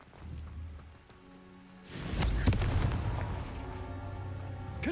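A Confringo fire spell from Hogwarts Legacy bursts about two seconds in with a loud, sustained blast, its booming rumble trailing on to the end over a quieter game ambience.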